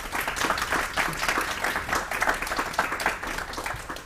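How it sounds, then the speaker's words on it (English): Steady applause from a conference panel audience, dense continuous clapping at an even level for a few seconds with no voices over it. "Let's give them a round of applause."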